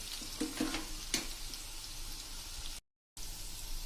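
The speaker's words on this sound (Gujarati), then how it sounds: "તો હવે આપણે મુઠિયાને બધા નાખી દીધા છે. હવે એકદમ સ્લો ફ્લેમ કરી નાખશું." Muthiya dumplings for Surti undhiyu fry in oil over a slow flame, giving a faint, steady sizzle with a few soft crackles and a brief dropout near the end.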